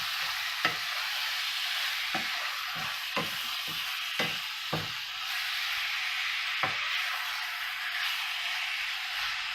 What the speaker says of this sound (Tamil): ஸோ சிக்கன் போட்டுட்டு நல்லா பரட்டணும்.